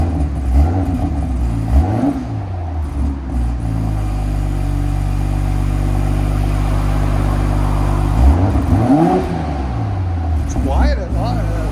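A 2020-era BMW M340i with a 3.0-liter turbocharged inline-six and modified exhaust idles loud and close, then rises through a couple of rev blips that sweep up and fall back, with people talking briefly.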